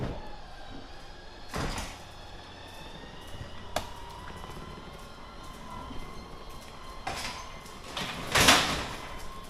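Camper slide-out motor runs the room out and back in: a steady low mechanical drone through most of the stretch, broken by several sharp clunks and rattles, the loudest near the end, with no talking.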